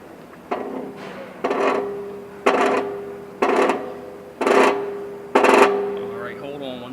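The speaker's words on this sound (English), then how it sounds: "Now, what we're seeing is the bearing's going down, and it's making some noise." A wheel bearing pressed down into a steering knuckle with a plate, giving six evenly spaced loud creaking, grinding bursts about a second apart under steady press pressure, alone without talk.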